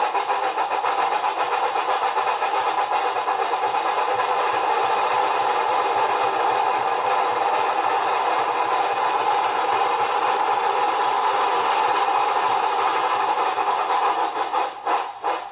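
A Bachmann HO-scale 2-10-0 Decapod model locomotive with WOWSound, Frisco livery, runs a pull test with a steady, loud motor and sound-decoder drone that holds without a break, then wavers near the end.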